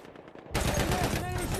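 Rapid automatic gunfire in a video game breaks out suddenly after a quieter moment and continues as a dense, loud, rattling burst.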